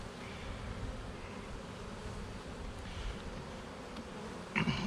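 Honey bees swarm and buzz around an open nuc hive during a frame inspection, a dense steady drone close by that runs the whole time with no talking.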